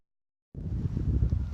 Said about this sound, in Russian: Ветер не стихает, мы подождали.